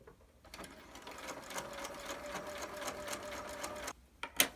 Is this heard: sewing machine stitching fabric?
yes